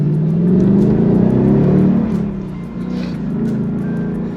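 A Ford Mustang GT with a 5-litre V8 gives a deep, throaty rumble that swells into a rev and then eases back, close and loud, with no voices over it.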